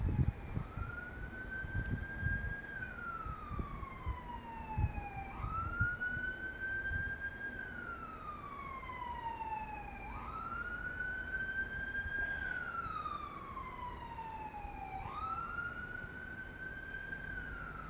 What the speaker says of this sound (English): I really like to run those sirens.